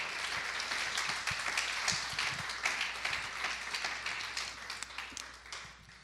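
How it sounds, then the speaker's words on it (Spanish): A church congregation gives a sustained round of applause, a dense, even wash of many hands clapping at moderate distance that slowly fades toward the end, with no talking over it. "Denle un aplauso al Señor"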